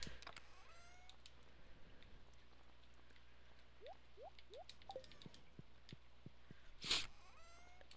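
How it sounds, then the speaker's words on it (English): In the Stardew Valley farming game, a cat meows outside in the rain, giving a few short rising cries over faint, steady pattering rainfall, with a brief louder burst near the end. "Kitty cat, are you outside? Why are you outside in the rain, you poor thing?"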